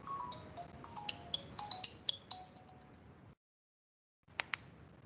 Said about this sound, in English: Just a minute. I have a phone call.